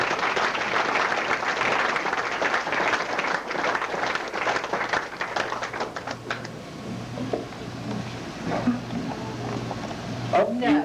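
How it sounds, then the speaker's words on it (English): Applause at a post office retirement party: loud, dense clapping from a crowd fills the first half, then thins out and fades, and voices and chatter follow near the end. "I'd like to give a big round of applause for Kathy Schultz."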